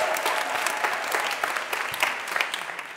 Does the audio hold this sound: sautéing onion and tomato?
no